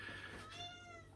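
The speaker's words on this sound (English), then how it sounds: "Cat's wowing." A cat meows indoors in one drawn-out, wavering cry, close and fairly loud, over a steady low hum.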